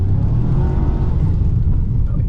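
Loud, steady engine drone from a 2023 Ford Maverick Tremor held at high revs in sand drive mode while driving off-road in snow, a continuous low rumble with no talking.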